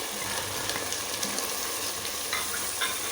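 Tomato-onion masala with biryani masala, curry leaves, salt, dried plums and red chilli powder being stirred in a pan, a steady close sizzle with scraping spoon strokes, no voices.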